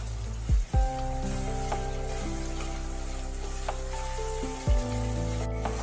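Mustard seeds sizzling and crackling in hot oil in a pan while tempering for potato 65, a steady close sizzle with a few louder pops and clatters.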